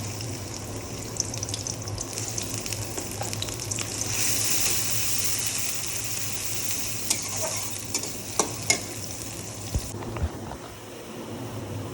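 Chopped onions frying in a pan for a snakehead fish bhuna, a constant crackling sizzle that swells briefly, with a few sharp utensil knocks near the end, close by and free of talk.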